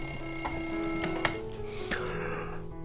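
An alarm clock rings steadily, loud and close, with a bright sustained chime that drops away partway through and leaves a softer lingering tone in a quiet bedroom in the morning.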